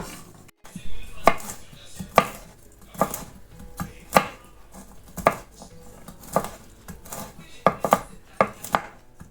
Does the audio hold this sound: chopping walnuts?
yes